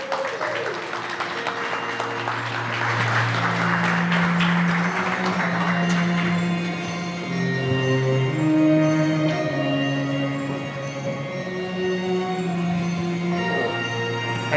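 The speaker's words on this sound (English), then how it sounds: "give it up, round of applause," Audience applause for a panel at a clean energy event, a broad steady patter of clapping with music-like tones running underneath throughout, no speech over it.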